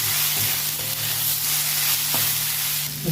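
Masoor lentils with vegetables, salt, turmeric and chili powder fry in a pan with a steady, loud sizzle. Faint stirring scrapes sound through the sizzle.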